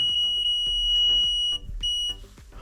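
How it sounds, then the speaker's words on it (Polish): A Bosch PCL 1 cross line laser level, out of its levelling range, sounds a steady high-pitched electronic alarm tone that runs continuously, briefly cutting out before resuming, with faint clicks and handling noises underneath. "Tak, pika, bo jesteśmy poza skalą."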